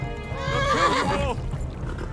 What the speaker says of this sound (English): the horse is getting a bit faster